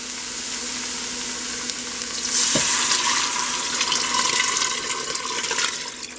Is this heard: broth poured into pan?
yes